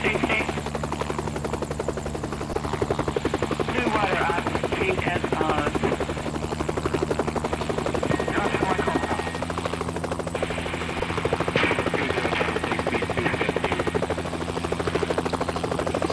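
A rescue helicopter in the video game Rettungshubschrauber 2013 makes a loud, continuous rotor and engine drone with a steady low hum throughout, while someone talks over it at intervals.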